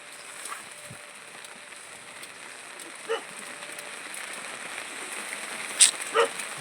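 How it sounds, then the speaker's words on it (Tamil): Steady rain patters in the background while a dog barks a few times from a distance, the sharpest barks coming toward the end. "யாரோ நிற்கிறாங்கன்னு சொல்லிட்டு நாய் குலைக்குது"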